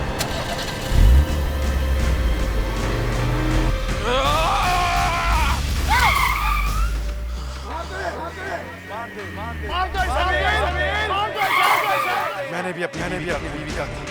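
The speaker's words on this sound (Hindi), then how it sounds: "गाड़ी स्टार्ट हो जाए।" A car engine cranks and tries to start during a tense horror-drama scene, a steady low mechanical drone running for several seconds while frantic voices and screams rise over it.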